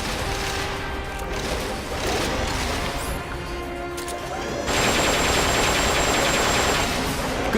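Armor-piercing gun firing in the video game Metal Gear Solid: Peace Walker, a dense, continuous stream of loud gunfire and impacts that grows heavier partway through.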